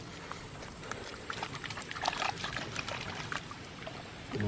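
A wet Jack Russell Terrier shakes off water on a Ranger vehicle, a wet spattering of water flung and trickling in a steady noisy wash, close by, with no talking.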